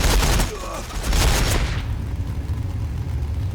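Rapid volley of gunfire in Warhammer 40,000: Battles, Orks against T'au, loud bursts over the first second and a half, then a low rumbling battlefield drone.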